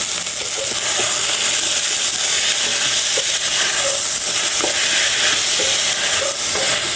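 Rice frying in ghee in a pan for Odia moong dal khichdi: a loud, steady sizzle that never lets up, with faint clicks of stirring scattered through it.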